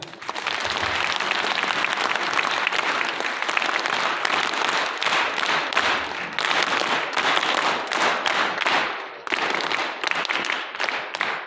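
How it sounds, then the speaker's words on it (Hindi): Sustained, loud audience applause fills a college hall in Rohru, Himachal Pradesh, steady and dense with slight swells and a brief dip near the end, no talking over it. "उनके लिए एक बार जोरदार तालियां बजाएं"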